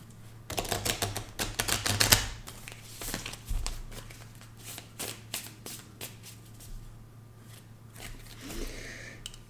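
Tarot cards being shuffled by hand, close and crisp: bursts of rapid riffling and slapping, busiest in the first couple of seconds, then sparser taps and soft card handling, with no talk.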